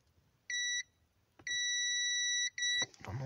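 A few sharp electronic beeps from a multimeter continuity test on a Mazda's ground points, one short, one long and sustained, then another short one, followed by a faint clunk.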